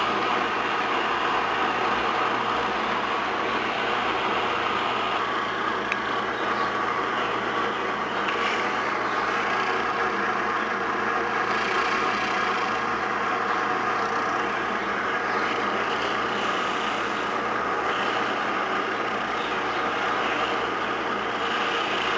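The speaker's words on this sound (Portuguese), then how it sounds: "Coloque o motor para girar." A small motor spins a ring made from an old coin against a piece of wet sandpaper, giving a steady, continuous whirring grind that holds an even level for over twenty seconds with no one talking.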